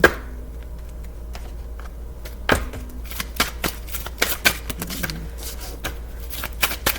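Tarot cards being shuffled by hand, soft papery riffles and sharp slaps in quick irregular bursts, close and fairly quiet against a low background hum.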